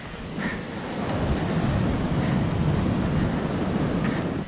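Steady ocean surf washing on a shore during a holiday run, a broad continuous roar with wind buffeting the microphone, close and fairly loud with no voices.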